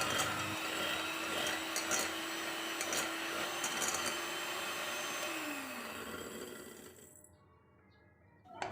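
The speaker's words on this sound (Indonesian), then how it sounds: "Setelah itu kita kocok whipped cream cair sebanyak 200 ml." An electric mixer whips 200 ml of cold liquid whipped cream, a steady, close whirring drone with faint clinks against the bowl, which winds down and stops near the end.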